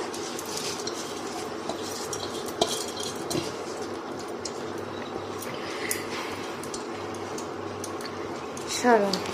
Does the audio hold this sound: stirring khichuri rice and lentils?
yes